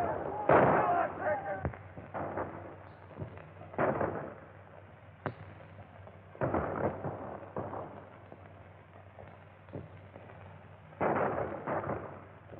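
A volley of gunfire follows a command to fire in a 1930s Three Musketeers movie serial: several separate sharp shots and bursts crack out at uneven intervals over a quiet background, fairly distant and thin.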